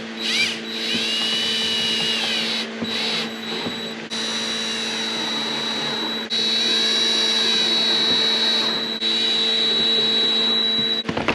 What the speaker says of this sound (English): Now I'm gonna go ahead and start screwing it in.